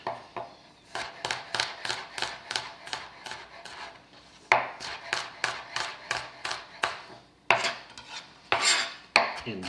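Knife chopping garlic on a cutting board for a veggie tamale pie, a rapid run of crisp, evenly spaced blade taps close by, pausing briefly and then resuming with a few louder strikes.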